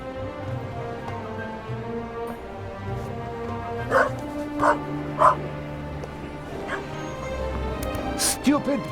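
Dog barking and whimpering in a cartoon, with sharp separate barks and high whining yips over a background of music and a voice talking.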